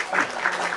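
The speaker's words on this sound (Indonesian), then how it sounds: "Tepuk tangan." An audience at a Christian–Muslim religious debate breaks into applause, a short burst of dense, steady clapping that swells and holds for under a second.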